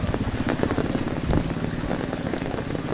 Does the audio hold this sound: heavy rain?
yes